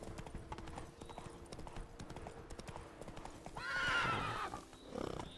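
Roach the horse in Witcher 3 gallops with quick, regular hoofbeats, then lets out a loud, shrill neigh, followed by a shorter snort and whinny near the end.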